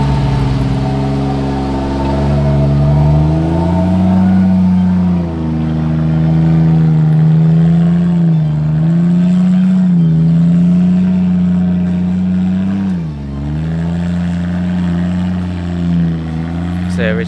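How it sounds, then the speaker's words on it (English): A 4WD engine revs hard and holds a loud, sustained growl as it climbs a big off-road step, the pitch rising and dipping with throttle over the whole stretch. "So Richo goes on this big step here"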